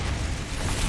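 Confringo fire spell going off in Hogwarts Legacy, a short, heavy, rumbling blast that fills the whole moment with dense low roar and no voice over it.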